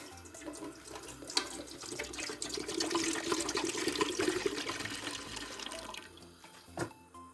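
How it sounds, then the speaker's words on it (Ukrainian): Fruit nectar pours steadily into a pot, a soft continuous splashing stream that swells and then tapers off, fairly quiet and close. "Виливаємо у каструлю нектар"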